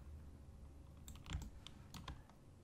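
Computer keyboard keys are pressed for a shortcut, giving a few close, light clicks in a small burst, one slightly heavier tap among them, over a faint quiet room hum.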